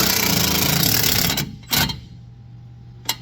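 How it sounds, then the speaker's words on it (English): Impact or power tool rattling hard on the 17 mm bottom shock bolt of a Honda Pioneer 1000 side-by-side for about a second and a half, then stopping, followed by a short clank and a later sharp click. "All right, get this bottom shock bolt out."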